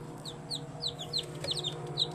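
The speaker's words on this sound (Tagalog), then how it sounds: "Meron tayo ngayong mga bagong pisang sisiw dito" Newly hatched native chicks cheeping close by, a rapid run of high, thin peeps repeating every fraction of a second over low background hum.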